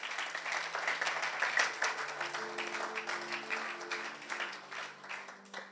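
A church congregation applauds and cheers in a continuous, dense patter of clapping that swells and stays lively throughout, with a low sustained tone beneath.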